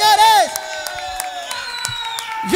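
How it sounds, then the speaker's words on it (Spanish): An evening crowd at a serenade for Callao's 184th anniversary welcomes a singer with cheering, whoops and scattered claps. A loud voice rings out over them at the start and end. "¡Dar los aplausos, señores!"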